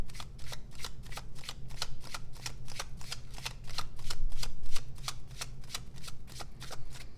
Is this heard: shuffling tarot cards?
yes